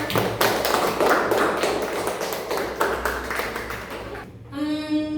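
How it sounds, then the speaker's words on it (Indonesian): A classroom of students applauds together at the close of a lesson, a dense run of claps lasting about four seconds before stopping abruptly, after which a brief tonal sound follows. "Satu kali lagi tepuk tangan buat kita semua"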